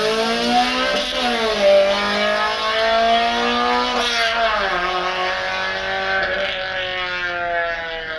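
A car fitted with a big aftermarket exhaust revs its engine, the note rising and falling through several throttle blips before settling into a sustained, loud, raspy drone.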